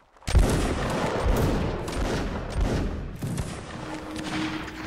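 Massed volley of musket fire from a line-battle video game: a sharp crackling burst, then a dense, rolling roar of many shots that stays loud and slowly thins over several seconds.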